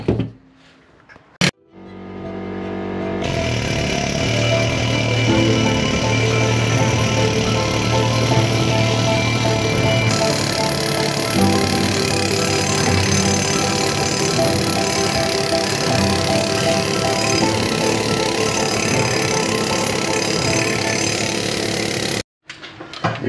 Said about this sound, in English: 80 grit flapper wheel on the grinder is the way to go